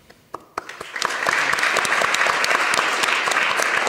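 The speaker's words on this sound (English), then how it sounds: "Please join me in the applause to them." Audience applause for a conference panel on China–CEEC people-to-people cooperation, starting with a few scattered claps and swelling within a second into dense, steady clapping that fills the room.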